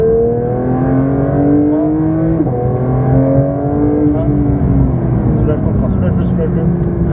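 A race car on the Dreux circuit engine rising in pitch as it accelerates, then shifting and climbing again, loud and close as if heard from inside the car, with a voice talking over it.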